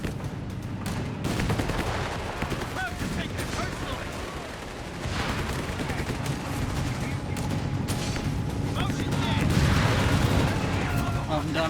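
Rifle and machine-gun fire rattles through a Company of Heroes 3 battle between American infantry and German Panzers in North Africa, with dense overlapping bursts and booms continuing throughout under a steady commentator's voice.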